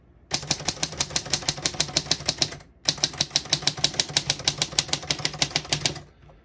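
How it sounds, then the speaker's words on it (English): Rapid, sharp mechanical keystrikes clack in quick succession on a 1934 Corona Four antique portable typewriter, pausing briefly once before resuming in another even burst of typing. "As you can see, all the keys type perfectly and none of them stick."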